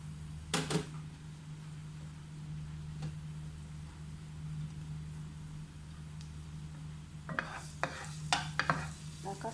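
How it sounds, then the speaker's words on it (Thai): A steady soft sizzle of garlic stir-frying in a hot wok with occasional scraping taps of a utensil, clustering into quick stirring clatter near the end. "ผัดกระเทียมให้หอมเลยนะคะ"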